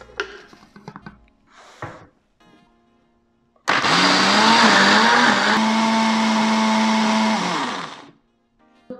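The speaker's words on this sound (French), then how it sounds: "Et on va tout simplement le mixer jusqu'à l'obtention d'une pâte homogène." A blender whirs loudly for about four seconds as it mixes buckwheat flour and water into crêpe batter, holding a steady whine. A few quieter knocks and handling noises come before it.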